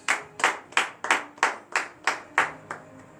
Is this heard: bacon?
no